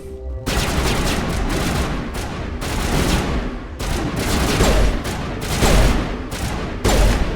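Gunfire in the game Mass Effect rattles on without a break, dense and loud, with sustained automatic bursts and heavy impacts from start to finish.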